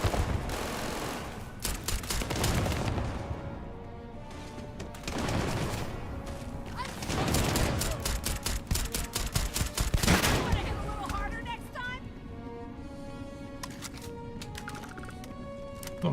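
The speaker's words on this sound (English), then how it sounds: "There's a guy over there on the side just, peeking around the edge, taking shots at me." Enemy gunfire in Starfield, rapid loud bursts of automatic shots in repeated volleys, near and sharp, with quieter gaps between barrages.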